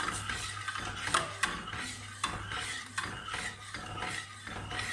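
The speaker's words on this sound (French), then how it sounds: "je vais remuer jusqu'à ce que j'arrive à avoir une consistance un peu plus épaisse" Madeira sauce being stirred in a pan, with repeated scraping and rubbing strokes of a utensil against the pan at an even rhythm, close and fairly quiet, with no talking.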